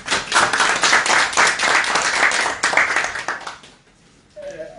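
An audience at a ceremony handing neonatal health kits to a health ministry applauds the minister loudly, a dense burst of many hands that rolls on for several seconds, then fades into near quiet with a faint sound at the end.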